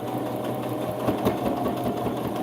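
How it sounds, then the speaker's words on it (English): A sewing machine stitches a satin bonnet made from scrap fabric, running with a steady, continuous motor hum and rapid needle chatter throughout, close and fairly loud with no talking. "And then start to sew. Make sure to back stitch."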